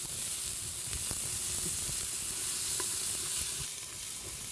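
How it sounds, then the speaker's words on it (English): Onions and garlic sweat in oil in a pan for a South African curry, giving a steady close sizzle and hiss with faint scattered ticks of stirring throughout. "We're going to put the onions and garlic first. First, to sweat it out."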